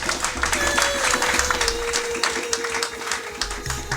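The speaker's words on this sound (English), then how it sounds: "So I think we should give them all a big round of applause." An audience at a women's empowerment event honouring Black men applauds, a sustained patter of clapping with some crowd noise and a faint tonal whine running underneath.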